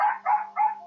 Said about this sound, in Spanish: Pues fueron los perros